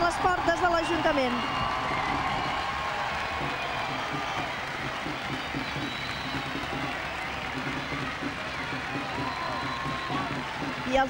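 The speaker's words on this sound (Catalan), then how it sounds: "els reusencs i les reusenques aquí concentrats a la plaça que amb entusiasme i aplaudiments reconeixen la feina dels xiquets amb aquest pilar caminant" Steady applause and scattered cheers rise from a crowd packed into the Reus town hall square for a walking human tower pillar by the Xiquets de Reus, sustained throughout beneath an ongoing voice.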